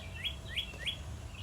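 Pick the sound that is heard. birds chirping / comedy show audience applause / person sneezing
birds chirping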